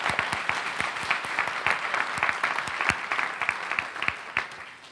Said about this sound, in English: let's give everybody one final round of applause